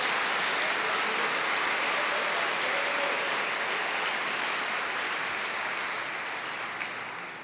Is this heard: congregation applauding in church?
yes